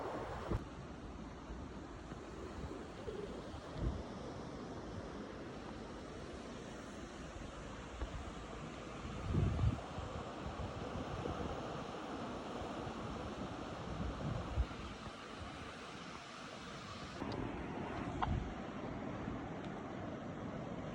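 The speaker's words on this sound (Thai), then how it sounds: "ทำไมลมแรงจังเฮ้ยลมแรงแปลกๆว่ะ" Strong wind blows steadily at a beach on Ao Krathing, Chanthaburi, roaring with mic buffeting and gusts over faint surf, continuous for the whole stretch with no voices.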